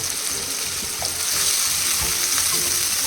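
Sliced onions with salt sautéing in hot oil in a pan, a continuous close sizzle with faint stirring and no one speaking.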